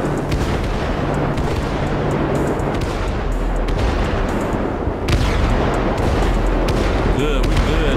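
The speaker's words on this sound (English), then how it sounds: "Man, them damn fireworks sound." Fireworks burst nonstop in Grand Theft Auto V at night, a thick, rumbling barrage of booms and crackles with sharp louder blasts midway, while a voice talks underneath.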